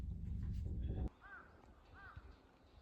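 A loud burst of noise cuts off, then two crow caws sound a moment apart, moderately distant against quiet background, at a temple in rural Japan.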